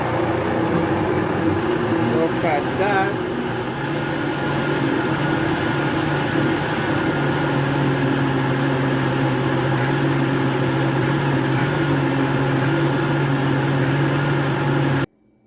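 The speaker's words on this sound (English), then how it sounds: "And now let's blend." An avocado smoothie whirs in a blender as a loud, steady motor drone, continuous for about fifteen seconds and cutting off at the very end, with a brief voice in the background.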